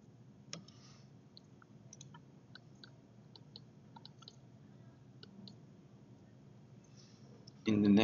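A single sharp mouse click near the start, followed by faint scattered ticks over a quiet room background during engineering software work, then a louder burst at the end.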